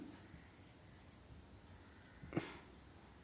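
A pen scratches across paper while figures are entered in an accounting ledger, faint and close, with soft strokes and one sharper mark near the end.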